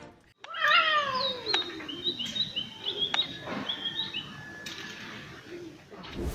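A cat on trail-camera footage at a house lets out a loud, drawn-out descending meow, followed by shorter high chirping calls and scattered sharp knocks, with outdoor background noise.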